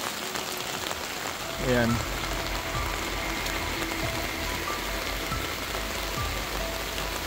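Heavy rain drums steadily on a tent and tarp at a riverside campsite during a typhoon, a dense, close wash throughout, with a brief voice and a short squeaky sound near the start.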